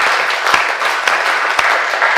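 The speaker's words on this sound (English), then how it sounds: "Can you give yourselves a massive round of applause" A conference audience breaks into dense, sustained applause, many hands clapping together at a steady level throughout the short burst.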